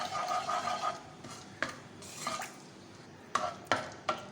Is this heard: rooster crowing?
no